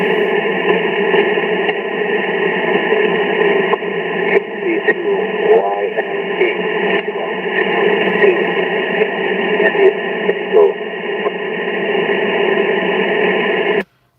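Weak ham radio station buried in static on a long-distance band, heard from a dam-side park operation: a dense, steady hiss fills the whole stretch, with faint warbling traces of a distant voice barely rising out of the noise before it cuts off abruptly.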